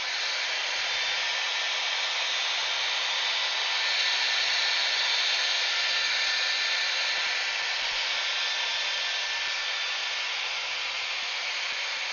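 Air blower keeping a ball floating in its stream, a steady, loud, even rushing hiss that holds unchanged throughout with no talk over it.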